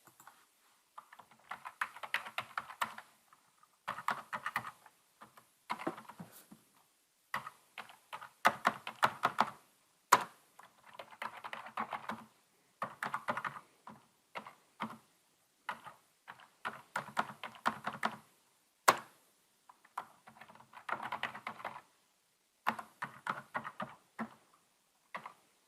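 Numbers are typed on a computer keyboard in quick bursts of close, crisp key clicks separated by short pauses, repeating irregularly throughout with no talking.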